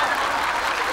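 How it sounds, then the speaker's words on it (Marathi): A studio audience at a Marathi comedy show bursts into loud, dense applause for Mahesh Manjrekar, a steady wash of clapping hands filling a brief moment. "जोरदार टाळ्या झाल्या पाहिजे महेश मांजरेकर सरांसाठी"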